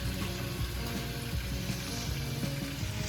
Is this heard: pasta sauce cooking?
yes